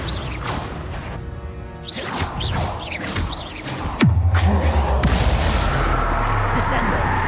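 A Confringo fire spell cast in Hogwarts Legacy: swishing whooshes build up, then a sudden loud explosive boom about halfway through, followed by a heavy sustained low rumble and crackle.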